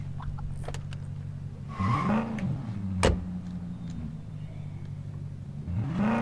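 A car engine in State of Decay 2 drives and revs, rising and falling in pitch with a few surges and brief tire noise, fairly close and alone without talk.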